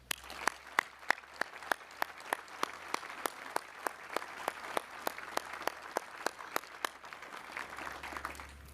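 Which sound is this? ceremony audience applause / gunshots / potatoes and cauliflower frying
ceremony audience applause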